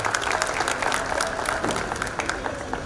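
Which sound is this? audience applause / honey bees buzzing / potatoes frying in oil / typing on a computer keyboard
audience applause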